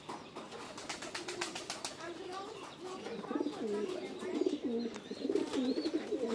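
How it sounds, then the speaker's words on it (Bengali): A big male pigeon gives deep rolling coos, growing louder in the second half. Sharp chirps and clicks come early, and faint murmured talk sits in the background. "এই যে হলো নর কবুতরটা"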